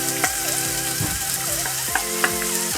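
Chopped onion dropped into hot oil with cumin seeds, sizzling loudly and close, with clattering stirs and a few sharp knocks against the pan.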